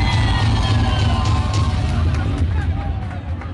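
A concert audience at a Cuban music show in Tampa fills the room with loud, continuous crowd noise and cheering that stays dense throughout and eases slightly at the end, with voices mixed in.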